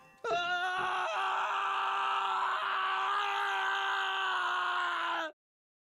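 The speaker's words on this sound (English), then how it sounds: "That is a scream." A long, loud sustained scream from the video game The Hundred Line: Last Defense Academy holds a strained, steady pitch for about five seconds before cutting off abruptly into silence.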